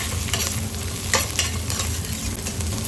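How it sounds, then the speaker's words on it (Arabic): Chopped vegetables and spices sauté in a pan for butter chicken, with a constant close sizzle broken by scraping stirs. "حمر كل ده مع بعض كده."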